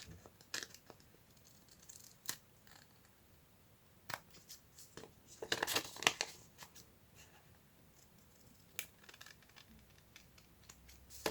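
Scissors snip through paper for a steampunk journal pocket, a few quiet, separate cuts with rustling between them in a faint room.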